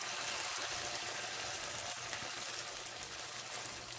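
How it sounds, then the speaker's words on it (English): Saltfish fritter batter frying thinly in a small pan, a steady close hiss and crackle with faint scattered pops, no talk. "you're going to allow that to fry until the batter is brown, golden brown on both sides"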